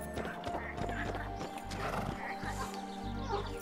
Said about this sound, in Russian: Конечно, лошадь беречь надо.